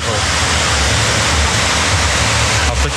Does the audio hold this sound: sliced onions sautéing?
no